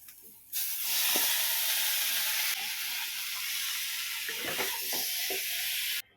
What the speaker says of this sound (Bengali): সেই এঁচোড়টাকে এখন গরম করবো।